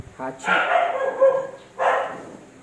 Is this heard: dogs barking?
yes